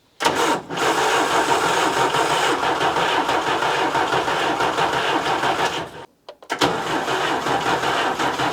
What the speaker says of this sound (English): I'm going to turn the engine over.